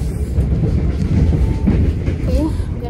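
A London train running toward West Ham station gives a steady, loud rumble with a faint clatter throughout, as people talk in a language other than English over it.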